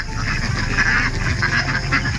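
Ducks (itik) in a small screened poultry pen give a dense run of close, loud quacks and honking calls, overlapping continuously with no pause.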